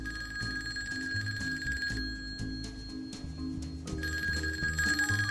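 An office telephone rings with repeated electric bell bursts, each a bright, insistent trill broken by short pauses, close and clear over quiet background music.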